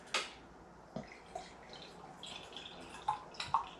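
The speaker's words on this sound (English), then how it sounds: "Let's grab a little glass and get a little pour going." Firestone Walker Propagator Mosaic beer pours from a bottle into a small glass, a quiet trickle with a few soft splashes and drips spread across the pour, close by and without talk.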